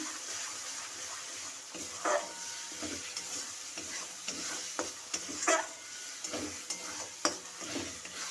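A spoon stirs spices mixed with Kashmiri chili powder in a sizzling pan while cooking chicken, making close, irregular scraping and wet stirring strokes over a soft frying hiss, with no talk.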